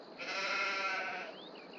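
A single sheep bleat in a video game, one clear, wavering call lasting about a second, heard alone.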